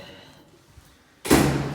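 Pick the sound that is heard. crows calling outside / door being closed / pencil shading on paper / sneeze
door being closed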